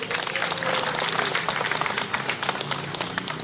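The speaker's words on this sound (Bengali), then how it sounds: "আপনারা ওনার জন্য একটা জুড়ে হাততালি দেবেন" An audience at a political rally applauds candidate Papiya Datta with a dense, continuous wash of clapping from many hands, fairly loud and steady throughout.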